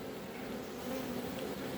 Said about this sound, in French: Alors attends, il y a trop d'abeilles.